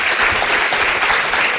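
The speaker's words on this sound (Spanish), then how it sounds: "Os pido un aplauso para él, Lorenzo." An audience applauds steadily and loudly, a dense, even wash of many hands clapping for the whole moment, with no one speaking over it.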